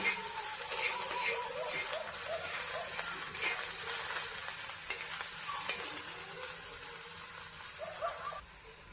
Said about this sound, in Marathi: आता आपली कांदा कांदापात छान तळलेली आहे